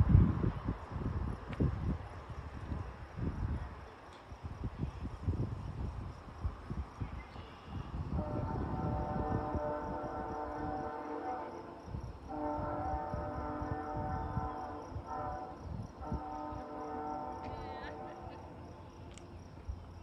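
A train passes through the Aurora Road crossing, its horn blaring in long sustained chords with a rumbling approach beneath, loud and close, with wind buffeting and someone talking early on.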